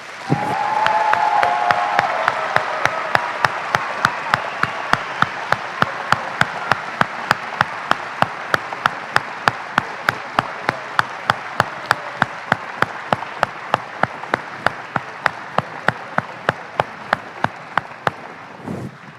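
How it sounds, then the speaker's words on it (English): A large crowd applauds new citizens at a naturalization ceremony, a dense sustained round of clapping that fades toward the end, leaving a few isolated claps. "Let's give them all a real round of applause."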